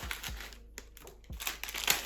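A postal parcel's plastic packaging crinkles and rustles as it is handled and torn open, a steady close crackling with scattered sharper crunches, no talking.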